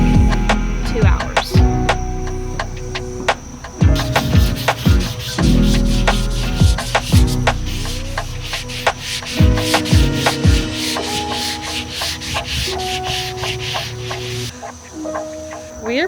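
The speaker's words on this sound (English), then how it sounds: "I've been sanding this one panel for like 2 hours" Steady rubbing and scraping of sandpaper on a Ford Transit van panel before priming, continuous strokes with occasional thumps and knocks, close and fairly loud.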